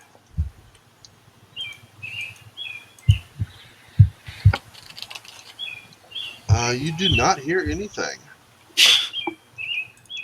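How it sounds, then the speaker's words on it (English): Ambient birdsong in a tabletop role-playing game: small, bright chirps repeat at the start and again near the end, while a person speaks over them and a few dull knocks sound. "You hear birds and the occasional buzzing of what you take to maybe be a bee."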